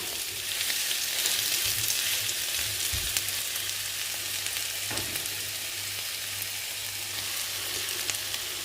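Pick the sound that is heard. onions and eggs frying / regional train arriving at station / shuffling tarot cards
onions and eggs frying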